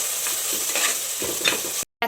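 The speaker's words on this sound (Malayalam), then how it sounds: "ഇനി ഇതിൻ്റെ പച്ചമണം മാറുന്ന വരയ്ക്ക് നമുക്ക് ഇളക്കി കൊടുക്കാം" A spoon stirs crushed chili, ginger and garlic sautéing in oil in a pan for tomato rice, a steady close sizzle with scraping stir strokes, cutting off abruptly near the end.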